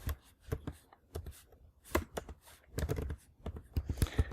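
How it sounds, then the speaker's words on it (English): Keystrokes on a computer keyboard, typed in uneven bursts of clicks at close range with short pauses between runs, no voices. "If I knew I was going to be typing this"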